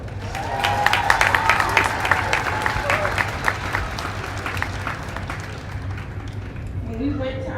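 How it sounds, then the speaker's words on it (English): An audience breaks into applause on a campus, many hands clapping loudly at first and then tapering off, with scattered cheers and a voice speaking over the fading claps. "Let's clap it up for them."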